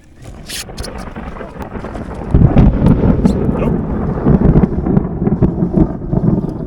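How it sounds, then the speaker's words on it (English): Distant thunder rumbles low and steady across a lake before a storm, heard from a fishing boat on the water, with wind buffeting the microphone and the rumble swelling louder midway through. "I've been hearing a lot of thunder in the distance, and it's just now gotten up on us."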